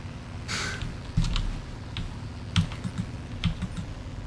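A dog's nose presses and rolls across computer keyboard keys, producing a scatter of soft, irregular clicks and taps up close over a steady background hum.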